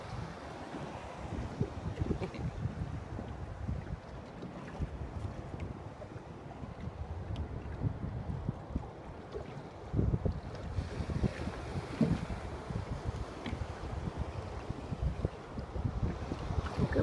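Ocean waves rolling in at a jetty basin at Murrells Inlet, a steady rumbling wash of surf mixed with heavy wind buffeting the microphone, swelling a little midway, with no talk.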